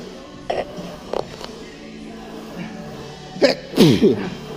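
A person sneezes sharply in a gym during a leg workout, with a couple of short huffs beforehand and a quick follow-up burst near the end, heard close up against room noise.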